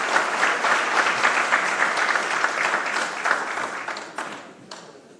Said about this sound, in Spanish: queremos reiterar el agradecimiento a la doctora María Soledad Cisternas Reyes con un fuerte aplauso nuevamente